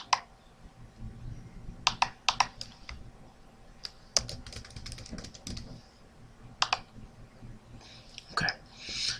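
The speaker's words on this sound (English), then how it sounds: "Let's go ahead and enter your username and password." Rapid bursts of computer keyboard keystrokes entering a username and password, irregular clusters of crisp clicks separated by short pauses, close and fairly quiet.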